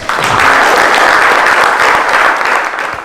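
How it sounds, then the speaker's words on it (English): An audience at a talk on working life claps for a guest who has a guide dog, giving a loud, sustained round of applause from many hands that swells quickly and tapers slightly toward the end. "Can we give her a round of applause?"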